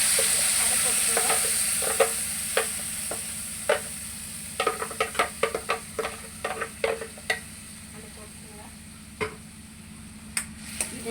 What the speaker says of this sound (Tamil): இது நல்லா எண்ணெய் பிரிகிற வரைக்கும் நல்லா சுண்டு வர மாதிரி வதக்கிக்கணும்.